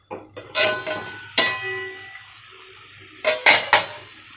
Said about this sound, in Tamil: மூடி திறந்து பார்த்துடலாம்.